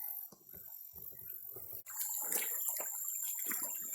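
Stream water flows steadily through a sluice outdoors at a dredging site, a soft continuous rushing and splashing that grows fuller partway through.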